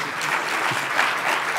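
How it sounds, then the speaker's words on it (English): An audience at a government innovation conference applauds steadily, a dense even wash of clapping hands from start to finish with no voices over it. "you should give him a round of applause for that"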